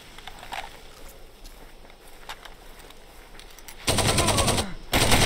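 AK rifle gunfire in Far Cry 2: quiet ambience and soft footsteps give way to a loud, rapid burst of automatic fire, then a short pause and a second burst right at the end.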